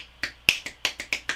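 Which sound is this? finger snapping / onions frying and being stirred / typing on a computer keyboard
finger snapping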